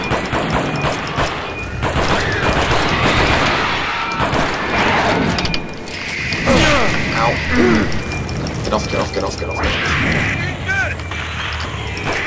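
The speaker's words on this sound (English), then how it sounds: "Oh, I hear pulse rifles." Pulse rifle gunfire in the sci-fi shooter Aliens vs Predator: dense, continuous bursts of loud automatic fire and impacts, with game effects layered throughout and a voice talking over the din.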